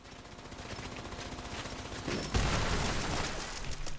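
Rapid automatic gunfire in the post-apocalyptic shooter Fallout 76, a dense continuous fusillade that swells louder partway through, with no talk over it.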